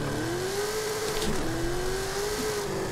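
A Mercedes G-Class tuned past 1500 horsepower accelerates in Forza Horizon 5, its engine giving a steady, fairly quiet rising whine that dips briefly mid-pull and climbs again over a faint rushing background.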